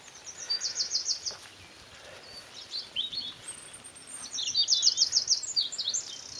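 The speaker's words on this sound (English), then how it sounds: "So many birds living here now." Several birds chirp and trill in quick high bursts, some near and some farther off, over a soft outdoor hush in a permaculture garden with no voices.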